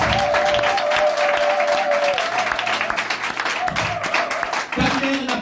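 Applause and cheering from a church congregation acclaiming Christ at a revival-style service, loud and dense for the whole stretch, with voices and a sustained tone running through it.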